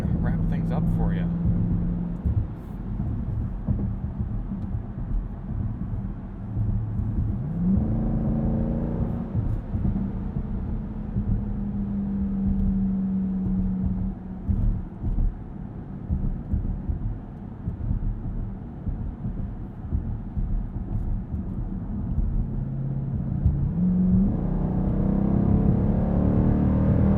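A 2020 Dodge Durango SRT V8 engine rumbles low and steady during sporty driving, heard from inside the cabin, with gradual rises in pitch as it accelerates and shifts through gears.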